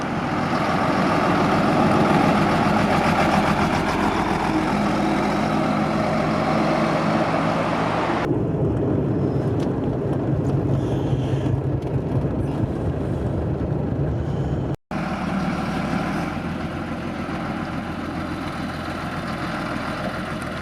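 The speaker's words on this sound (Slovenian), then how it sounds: "Motor je toliko močan, da do 7. prestave Uroš polovičke redko uporablja" A heavy engine of an old Steyr 1291 truck rumbles steadily up close, its tone shifting partway through, with a brief dropout near the end.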